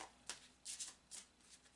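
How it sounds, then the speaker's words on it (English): A deck of oracle cards is shuffled by hand in quick bursts of riffling, papery swishes, about four close, crisp flurries separated by brief pauses, with no talking. "So I'm shuffling the cards."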